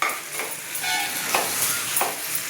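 Pasta being stirred into tomato ketchup and tomato soup in a hot pan, a steady wet sizzle with soft scraping strokes recurring every half second or so, fairly close and alone without voices.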